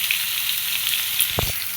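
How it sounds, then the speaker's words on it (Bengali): Pointed gourd, pumpkin and potato pieces fry in hot oil with a steady, close hiss, and near the end a brief scrape of stirring interrupts it. "এই তিনটা খুব ভালো মতো ভেজে নিয়ে তারপরে দিয়ে দিব ডাটা।"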